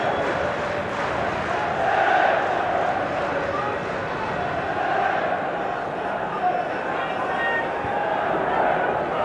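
Roughly 11,000 football fans in a stadium at a Manchester United versus Coventry City match keep up a broad, distant, continuous roar of cheering and chanting, with a commentator's voice over the top.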